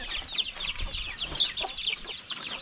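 Shamo and asil gamefowl cluck in quick, bright, overlapping calls that keep going without a break, close by and fairly loud, with no voices.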